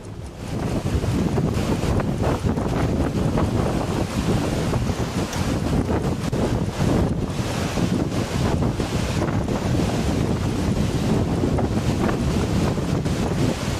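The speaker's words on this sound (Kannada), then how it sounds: "ಹೆಬ್ಬೆ ಜಲಪಾತ ಬಂಡೆ ಕಲ್ಲುಗಳ ಮೇಲೆ ಭೋರ್ಗರೆಯುತ್ತಿದೆ." Hebbe waterfall near Kemmannugundi in Tarikere taluk, swollen water roaring over rocks: a dense, unbroken rushing roar, loud and steady throughout, with gusty wind buffeting the microphone.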